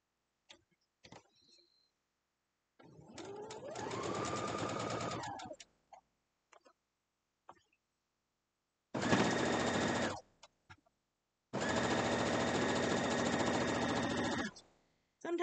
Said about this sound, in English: Now we're going to go sew these up.